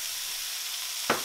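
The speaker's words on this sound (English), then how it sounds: "I'm gonna throw in some mushrooms." Mushrooms hit hot olive oil in a pan with a sudden sizzling burst near the end, after a quiet stretch of faint background hiss.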